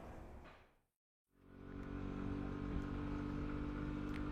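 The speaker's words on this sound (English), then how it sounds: "I'm actually riding the 125cc version here rather than the 150 that I had in the earlier test. And I'm actually quite happy with how plucky the engine is" A Peugeot Django 125cc scooter engine hums steadily while riding, with wind rush over it, briefly cutting out near the start before returning at a constant level.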